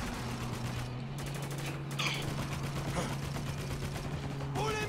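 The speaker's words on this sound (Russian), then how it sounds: "Пулемет!" Machine gun fire from the video game Spec Ops: The Line, bursts of rapid gunshots over a steady droning hum, with brief sharp mechanical clicks and a voice shouting partway through.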